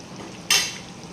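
Kerala fish head curry made with tuna head, stirred in a pan: a single short scraping swirl that rises suddenly and fades over a second, close and clear above a faint kitchen background.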